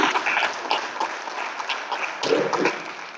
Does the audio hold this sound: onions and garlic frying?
no